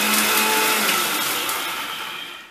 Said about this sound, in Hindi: मैं इसे ग्राइंड कर दे रही हूँ।